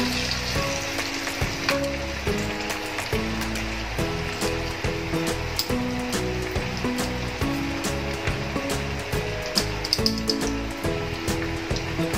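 Vegetable manchurian balls deep frying in a pan of oil: a loud, dense, continuous crackling sizzle that never lets up, with no voices.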